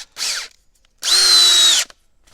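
Makita DHP482 cordless drill driving a 50mm screw into wood: a short whir, a pause, then a longer steady high whine as the screw runs in, loud and close.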